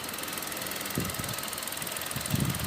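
2020/2021 Chevrolet Onix 1.0 turbo RS three-cylinder engine idling, a steady low mechanical hum with a faint knocking pulse and a couple of slightly louder throbs, close by and with no voices.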